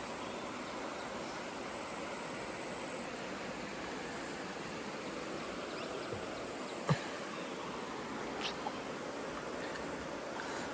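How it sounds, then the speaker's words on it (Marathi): Steady broadband rushing of the Soni river flowing near Ratnagiri fills the whole stretch, with a brief knock partway through and a couple of faint ticks later. "ही आमची आहे सोनी नदी"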